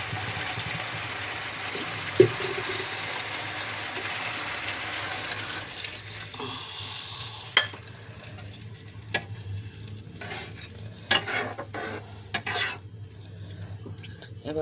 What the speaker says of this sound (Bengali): পরিমাণ মতন জলটা দেব।